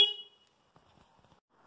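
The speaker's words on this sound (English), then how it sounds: "This will be the sound of the standard horn" A standard horn on a 2011 Vulcan 900 Classic motorcycle gives one short, loud honk right at the start, then cuts off into near silence with faint handling noise.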